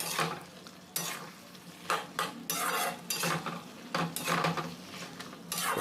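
Drumstick and potato curry in a kadai is stirred, with repeated clattering scrapes of a utensil against the pan and a bed of sizzling throughout.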